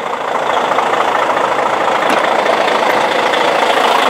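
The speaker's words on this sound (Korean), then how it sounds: "엔진 컨디션 아주 지금 소리가 아주 경쾌하게 잘 들리고 있습니다" A 2013 Hyundai Universe Noble 47-seat bus sits with its engine idling, a loud, close, steady diesel rumble that holds even throughout with no voices over it.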